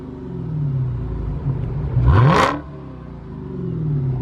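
A supercharged Dodge Charger Hellcat engine swells in a short rev about midway, rising with a rumbling roar and a high whir before settling back to a low idle rumble, fairly close.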